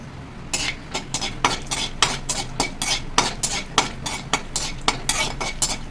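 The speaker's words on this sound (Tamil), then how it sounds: "இப்போ வந்து முந்திரி பருப்பு போட்டு நல்லா வறுத்து எடுத்துக்கலாம்." Cashews fry in hot ghee for a rava payasam, and a spoon scrapes and clinks against the pan in a quick, steady rhythm of about a dozen strokes over a soft sizzle. The sound is close and clear, with no talking.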